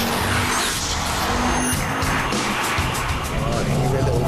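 A Ford Focus RS turbocharged hot hatch driven hard into a corner, with a loud, steady engine roar and tire noise throughout as a presenter speaks over it.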